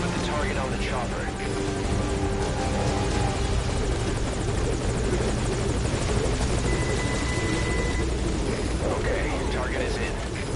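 Helicopter hovering at a landing zone in Metal Gear Solid V, a loud, steady rotor and engine roar that fills the whole stretch without a break.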